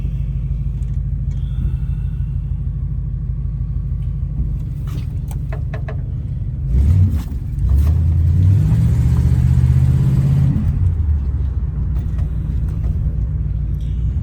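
A Chevrolet Catalina's engine idles on a chilly day with a low steady rumble, then revs up and rumbles louder and deeper before settling back, close and continuous.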